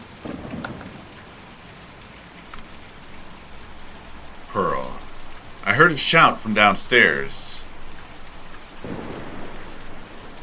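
Steady rain patters throughout in the video game Kentucky Route Zero, with low rumbles of thunder rising in the middle and a voice speaking over the storm.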